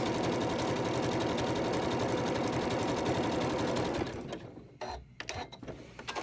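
Sewing machine running a satin stitch, heard as a steady, loud, fast mechanical whir with a rapid pulse close by, then stopping abruptly and giving way to a few quiet handling sounds.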